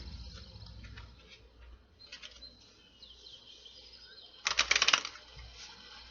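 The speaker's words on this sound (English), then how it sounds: "With the Kipper deck, 3 shuffles, my guys." Close riffle shuffle of a Kipper card deck, a short, loud burst of fluttering card edges near the end after quieter faint handling.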